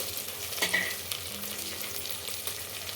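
Soft, close sizzling of ginger-garlic paste frying in a pan, with occasional scraping from stirring; quiet and steady, no voices.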